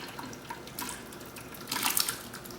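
Thick ancho-cherry sauce with whole peppers and cherries pours from a pot into a blender, giving a soft wet splashing and glugging that swells briefly near the end, close and fairly quiet.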